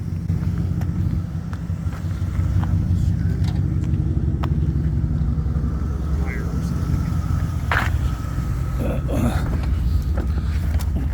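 An International Loadstar truck on a Chevy van chassis driving off-road, its low engine rumble steady and close throughout, with people talking inside the cab over it.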